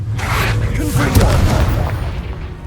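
A Confringo explosive spell blast in Hogwarts Legacy, a deep, rolling boom with a whooshing edge that stays loud for a couple of seconds, with a voice heard in the mix.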